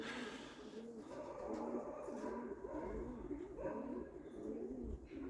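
Soft, repeated cooing of pigeons, low and throaty, recorded fairly quietly with a faint outdoor hum in the background.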